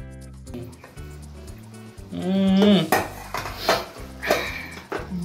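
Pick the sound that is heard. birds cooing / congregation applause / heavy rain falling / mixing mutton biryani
mixing mutton biryani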